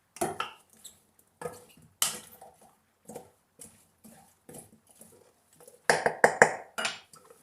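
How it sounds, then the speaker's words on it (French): Vegetables being mixed with spices for a Moroccan fish tajine: short bursts of wet squishing and soft clattering against the dish, separated by quiet pauses, close and fairly loud. "Maintenant, je vais mélanger tous les légumes avec ces ingrédients qu'on a mis"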